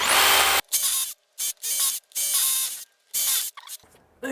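Power drill in chisel mode chipping out damaged concrete, loud harsh bursts of hammering and grinding broken by short pauses, close and with no talk.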